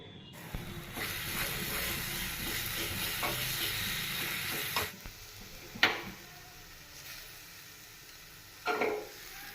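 Oil sizzling steadily in a small tadka pan for tempering a stuffed idli dish, a continuous frying hiss with a few sharp clinks and scrapes of stirring, close and moderately loud.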